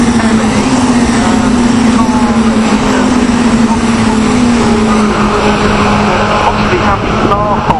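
Caterham Seven 310R race cars circuit racing at Castle Combe, a steady loud engine drone running throughout with a sustained pitch that slowly sags as the cars pass, under continuous commentary talk.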